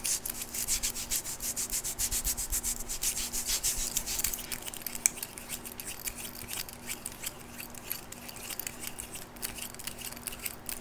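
Hands rubbing briskly over a face during a fast, aggressive ASMR massage, a close, steady stream of dry rasping strokes in quick rhythm, soft overall and continuous without talking.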